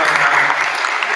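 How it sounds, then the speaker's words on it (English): An audience at a libertarian political meetup gives a short, loud burst of clapping, dense and close. "So another round of applause for Jacob and Rob"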